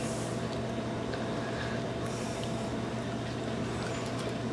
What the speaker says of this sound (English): Sorry for the background noise, that's the dishwasher running.